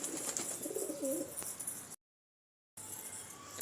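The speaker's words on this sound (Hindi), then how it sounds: "ये देखिए गाइस, सारे कबूतर बाहर आ रहे हैं।" Pigeons being fed roti coo softly nearby, a few soft calls over faint background, with a short silent gap near the end.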